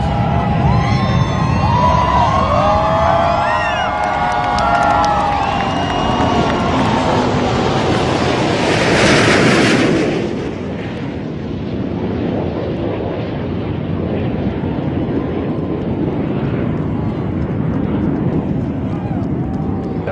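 A Boeing 787 airliner on its maiden flight roars overhead, its loud jet rumble swelling toward a peak before fading into wind-buffeted distant engine noise.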